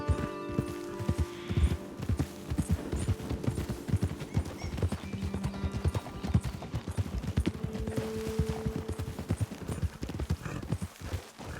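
Horses ride through the world of Red Dead Redemption 2, their hooves clip-clopping in a steady, loud, continuous rhythm with occasional whinnies and faint game sounds behind.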